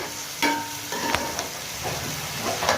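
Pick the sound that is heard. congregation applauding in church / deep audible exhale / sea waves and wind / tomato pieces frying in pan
tomato pieces frying in pan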